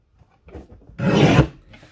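A paper trimmer slices through white and red cardstock in one loud rasping stroke lasting about half a second, preceded by faint handling and sliding sounds.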